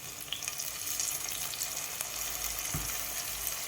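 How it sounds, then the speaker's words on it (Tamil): Steady, close sizzling and crackling from tomatoes sautéing in a hot pan for prawn gravy, continuous throughout with faint scraping of stirring. "இப்போ தக்காளியெல்லாம் சேர்த்து நல்லா வதக்கிக்கலாம்"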